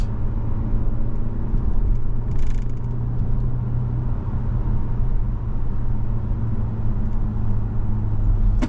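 Inside a 2023 Toyota Camry XSE in sport manual mode nearing a highway on-ramp, a steady, loud engine drone and road rumble fill the cabin without pause, and no one speaks.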